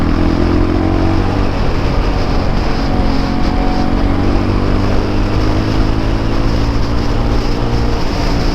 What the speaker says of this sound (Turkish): devir yükselince sesi yani yine egzozluymuş gibi oluyor